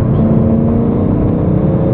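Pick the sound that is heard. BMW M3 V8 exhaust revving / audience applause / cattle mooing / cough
BMW M3 V8 exhaust revving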